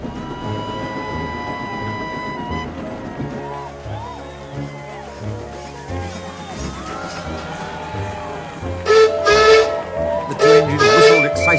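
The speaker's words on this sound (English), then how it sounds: "from far away an engine whistled." A steam locomotive whistle sounds in long sustained tones, then louder shrieking blasts near the end, over a rumbling, hissing engine, approaching from far away.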